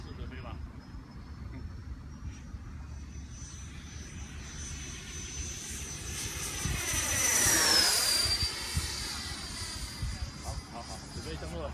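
Edine F18 model jet aircraft in flight on a maiden flight in windy conditions, a steady high engine whine that swells and sweeps in pitch as it makes a close pass around the middle, with people talking throughout.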